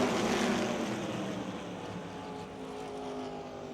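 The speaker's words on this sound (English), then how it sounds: "drivers racing 3 wide on the back straight in the middle of the pack" Open-wheel modified race cars roar past at Motordrome Speedway, a dense, loud engine drone from a pack of cars running three wide that fades slightly as they move away.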